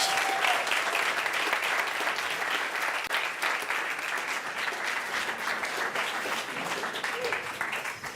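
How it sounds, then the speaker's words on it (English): Audience applause greets a tech company's CEO and VP of Product walking on stage at a livestreamed launch event, a dense, steady wash of clapping from a crowd that holds for about eight seconds before easing slightly. "give a big round of applause"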